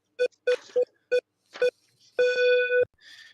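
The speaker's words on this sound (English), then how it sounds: "Here's a random phone scrambler." A phone scrambler effect on a radio show mixes rapid DTMF dialing beeps with a held, warbling electronic tone and a garbled burst at the end. It is loud and close, and no one talks over it.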